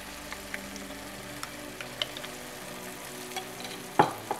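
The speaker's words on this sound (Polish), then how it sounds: "Wszystko dobrze mieszam" Vegetables with tomato paste cooking in a pot for Greek-style fish, a low steady sizzle with light scattered scrapes and a louder knock of the spoon near the end.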